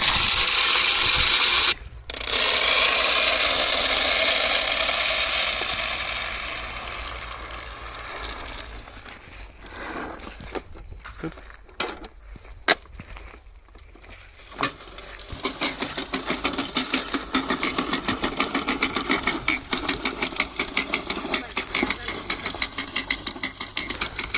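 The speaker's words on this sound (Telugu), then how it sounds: "ఈరోజు మనుషులతో కాకుండా హ్యాండ్ పుష్ సీడర్ అని ఈ మిషన్తో అయితే నాడుతున్నాము" A hand push seeder sowing maize in a field rattles and clicks mechanically, with a steady rhythmic clatter that stops briefly midway and then resumes more densely and loudly.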